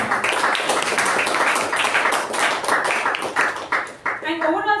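An audience at a Toastmasters meeting claps in a loud, close burst that thins out near the end, and a voice starts speaking as the clapping fades.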